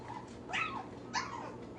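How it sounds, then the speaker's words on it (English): Small dogs indoors giving two high whining yelps in quick succession, close and fairly loud over a low steady background hum. "I hear these little dogs in here whining and crying"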